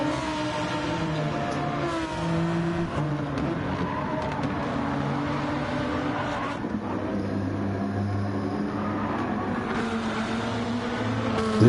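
Lamborghini and Genesis race cars on a dirt-edged forest circuit in a racing video game, engines droning and revving continuously and shifting pitch as they battle close together.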